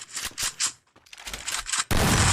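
Gunfire in a Free Fire Clash Squad match: several loud, rapid bursts of shots in the first second, a short lull, then scattered shots building into a dense, sustained roar of fire at the end.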